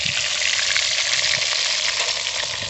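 Bhola fish frying in a wok, a loud continuous sizzle and crackle of hot oil, close and steady throughout with no talking.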